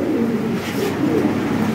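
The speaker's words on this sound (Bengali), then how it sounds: "কঠিন কবুতর" Lahori pigeons, a pair of toy Lahori birds, coo in a low, throaty, repeating rhythm, close by and steady throughout, with no talking over them.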